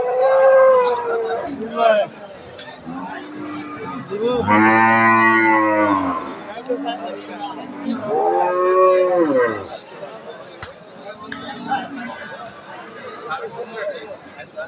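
A Holstein Friesian cow at a busy cattle market lets out several long, loud, close moos, with pauses between them, while people talk in the background.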